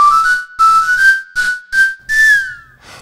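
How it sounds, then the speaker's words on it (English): Whistled melody samples from the RealiWhistle virtual instrument: a loud, close, pure whistle playing about six short phrases separated by brief gaps, with breathy air noise around each note and a final downward slide. "You still have the normal whistling articulation, and the airy articulation, which is a completely different method of whistling."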